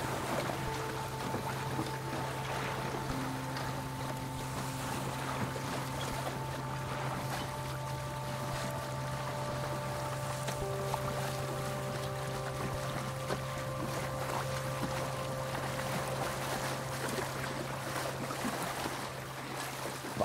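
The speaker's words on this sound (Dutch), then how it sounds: "Altijd hoor je de rivier, je hoort de boten, de duwbakken voorbij gaan." River boats and push barges pass on a Dutch river, heard as a faint, steady low engine drone with distant tonal hums and soft water and wind noise, with no talk.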